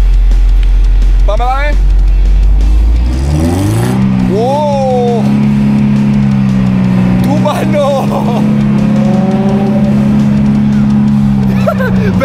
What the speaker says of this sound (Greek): Θα βάλεις λίγο γκάζι να ακούσουμε πως κάνει